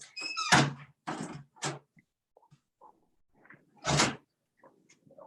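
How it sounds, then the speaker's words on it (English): An office door swings shut with a squeak and a solid thunk, followed by a couple of faint knocks and a second heavier bump in a quiet room, with no voices. "Let me see if I shut the door"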